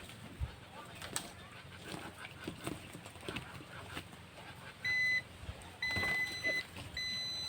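Three steady electronic beeps from a Zotek 102 digital multimeter's continuity buzzer testing a wire, each about half a second, sound loudly over faint handling noises and light clicking nearby.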